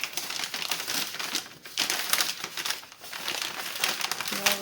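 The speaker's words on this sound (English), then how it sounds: "So I'll put that in the paper bag." A paper bag crinkles and rustles in bursts, crisp crackling handled up close with short pauses between movements.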